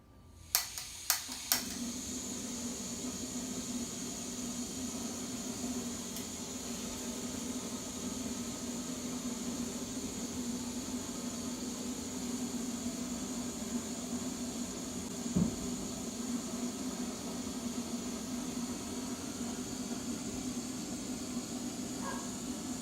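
A camping stove burning under an Olicamp XTS pot heating 16 ounces of water, a steady roaring hiss after a few sharp clicks at ignition, continuing evenly with a faint knock partway through.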